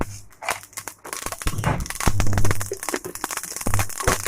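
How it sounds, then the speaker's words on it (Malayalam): Mustard seeds hit hot oil in a pan while making an elephant foot yam masala curry, giving dense, irregular crackling and popping bursts up close. "കടുക് ഇട്ട് കൊടുക്കുവാണ്."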